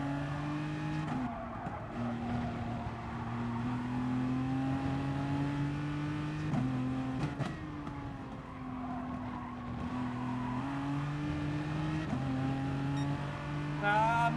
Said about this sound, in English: You need to rev the bollocks off it.